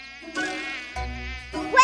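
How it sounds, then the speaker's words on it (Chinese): A mosquito's thin, high whine buzzes in close, rising and fading in three short passes as it circles, loud and alone with no talking, in an animated comedy scene. "蚊子别跑！"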